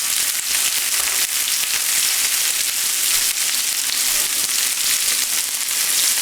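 A pork chop sizzles in a hot pan just after being flipped, a loud continuous hiss of frying fat with fine crackling, steady and close with no pause.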